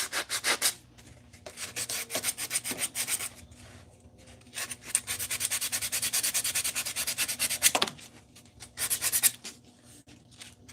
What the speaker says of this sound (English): You watching a man polish his wood.